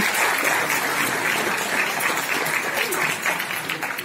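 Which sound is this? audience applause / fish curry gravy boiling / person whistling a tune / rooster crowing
audience applause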